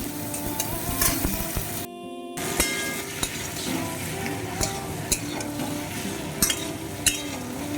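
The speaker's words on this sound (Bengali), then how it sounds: "আমি পেঁয়াজ ভাজতে বসিয়ে দিয়েছি।" Onions fry in a pan in a home kitchen during Bengali-style cooking, giving a steady close sizzle with scraping stirs and light utensil clinks, broken by a brief silent gap.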